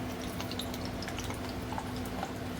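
Hot oil crackles and spatters steadily in a pan over medium heat after a few drops of water fell in, frying dal pakodi, a close, continuous dense sizzle with no talk.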